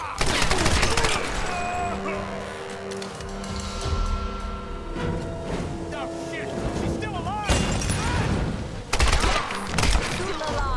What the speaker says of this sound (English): let's dodge and machine gun him